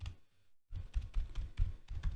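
Quick, uneven keystrokes come from a computer keyboard as code is typed, clattering close and crisp after a brief pause. There is no voice over the typing.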